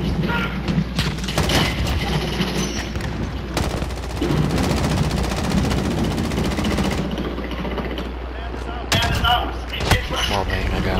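Gunfire in Call of Duty: Modern Warfare, with rapid shots and machine-gun bursts over continuous game noise and voices mixed in.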